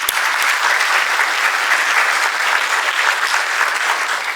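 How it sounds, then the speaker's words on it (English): Audience at a Habib University welcome evening in Karachi applauding faculty, a dense, steady wash of clapping hands that stays loud and even from start to finish. "So let's applaud them."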